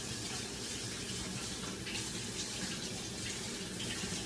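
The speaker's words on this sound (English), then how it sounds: "I'm gonna wash my hands here." Tap water runs steadily into a sink while hands are washed beneath it in a home kitchen, a continuous close splashing rush with no talk.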